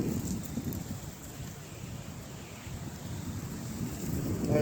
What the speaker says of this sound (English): that wind doesn't want to stop